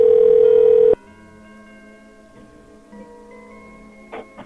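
A loud steady dial tone on a phone handset cuts off, then a faint electronic ringback tone and small clicks follow as an outgoing call to a seller about a refrigerator starts to connect.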